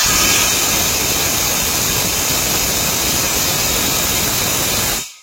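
A G-Tools GT78PRO impact wrench tightens a nut, giving a loud, steady, harsh mechanical roar that runs unbroken for about five seconds before cutting off abruptly.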